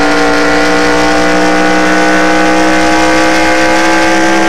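Race cars roar loudly during a racing series event, a continuous, near, steady engine drone with strong harmonic tones filling the whole span without letup.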